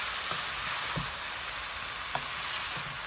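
Shrimp frying in a hot pan for Jamaican pepper shrimp, a quiet steady hiss of sizzling with a few soft scrapes from stirring, no talk.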